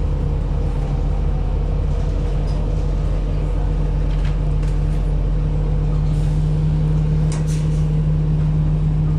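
Inside a crush-loaded Q112 city bus heading to Ocean Park, a constant low engine hum and road rumble fill the cabin. Occasional faint clatters and a brief hiss sit over the drone.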